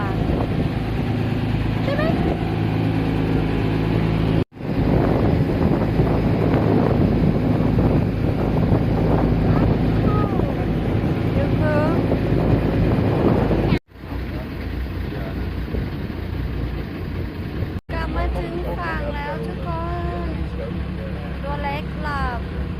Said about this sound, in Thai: กำลังนั่งเรือกลับกันนะคะ